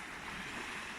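Fast river water pouring over a weir, a steady broadband rushing roar that stays loud and continuous throughout with no voices.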